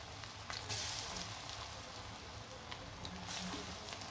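Puffed rice and onion fritters (pakora) frying in hot oil, a steady close sizzle with a couple of louder crackling bursts where batter drops in or is stirred.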